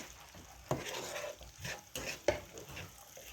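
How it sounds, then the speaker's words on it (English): Brown sugar being stirred into carrots and butter in a skillet, with soft scraping strokes and a low sizzle, marked by a few sharper clacks of the utensil against the pan. The sound is fairly quiet and close, with no talk. "Get that mixed in with our carrots and our butter"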